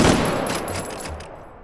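An M14 rifle on full auto with an extended magazine in the VR shooting game H3VR: a loud, short, blurred burst of gunfire at the start that decays into a ringing tail over under two seconds.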